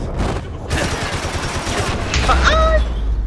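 Gunfire from a gun in Max Payne 3, a loud close burst of shots with ringing reverberation and metallic tails, mixed with game sounds.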